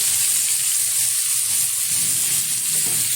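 Squeezed, grated bottle gourd meets a hot pan for a sweet dish, giving a loud, continuous sizzle with no breaks and no voices.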